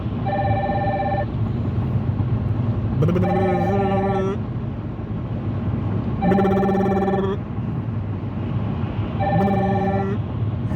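A telephone rings in four evenly spaced, loud electronic bursts, each about a second long, over a constant low rumble like a moving vehicle.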